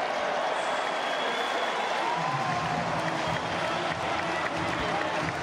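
Stadium crowd at a women's javelin throw final applauding steadily, a dense continuous wash of clapping and cheering that swells slightly partway through, with no clear speech over it.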